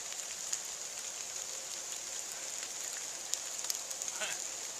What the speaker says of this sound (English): Rain come up out of nowhere.